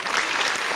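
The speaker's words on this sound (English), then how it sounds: "Can we get a round of applause for that?" A short, dense burst of crowd applause, loud and continuous for under a second.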